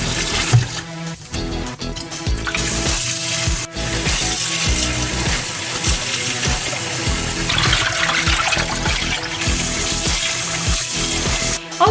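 Rice being washed in warm water for plov: continuous splashing and sloshing of water with rice, with occasional sharper knocks, loud and close with no talking.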